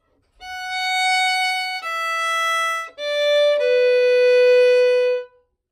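A single string instrument, likely a violin in a beginner tutorial, plays the opening phrase of Cielito Lindo: a handful of clean sustained bowed notes, each held about a second, close and clear with no talking.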